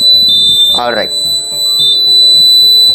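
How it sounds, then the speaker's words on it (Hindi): A fire alarm control panel's fault buzzer sounds a steady high-pitched electronic tone that cuts off and briefly returns, while someone talks over it in the room. "यहाँ पर बजर बजने लग गया है।"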